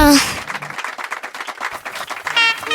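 Classmates in a classroom clap together for a boy named Kavin, a steady patter of many hands lasting under two seconds, with voices speaking just before and after.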